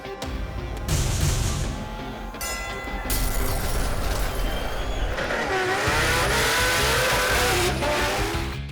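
A Nissan R32 GT-R race car with a 3-speed automatic roars and revs on a runway, then climbs in pitch as it accelerates hard, loud and close with no voices.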